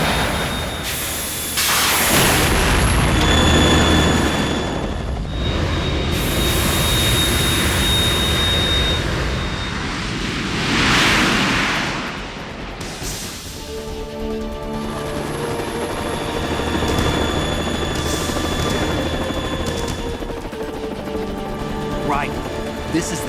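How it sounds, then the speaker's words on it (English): A Harrier jet in Metal Gear Solid 2 roars loudly and continuously with engine whine, mixed with game explosions and effects that swell and shift throughout. "You have to shoot the Harrier down."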